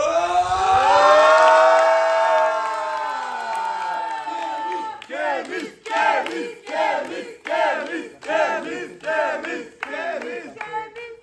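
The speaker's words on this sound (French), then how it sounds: "c'est la foule, ils crient tous" A large crowd at a live fan gathering celebrating a channel milestone, first a loud sustained collective shout, then repeated rhythmic chanting bursts of cheering, close and loud with no one speaking alone.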